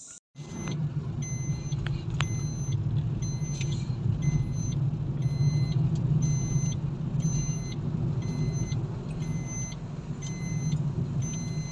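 Car climbing uphill on a village road, a steady low engine rumble and road noise heard from inside, with faint repeated high beeps throughout.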